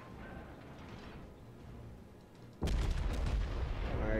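The main battery guns of a Yamato battleship in a naval video game fire partway through, a sudden heavy boom and rumble that rises out of quieter ambient mechanical noise and keeps rolling to the end.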